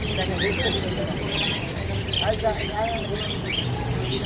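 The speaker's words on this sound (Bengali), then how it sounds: "rainbow lory" A tame rainbow lorikeet at a busy bird market in Mugda, Dhaka, gives short chirps and squeaky calls scattered over crowd murmur and nearby talk.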